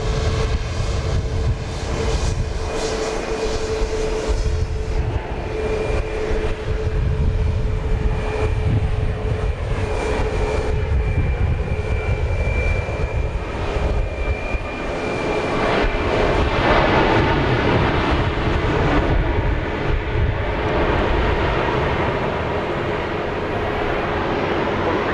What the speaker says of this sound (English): Another Max 8 making its way to the takeoff spot.